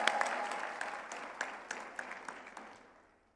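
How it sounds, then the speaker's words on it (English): An audience at an education report launch event claps, fairly loud at first with a few sharp standout claps, then thinning and fading out over about three seconds. "Give yourselves a round of applause"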